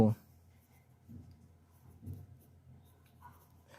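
Soft scratchy strokes of writing on a board during a maths lesson come in a few short bursts, quiet and close, with a voice heard around them.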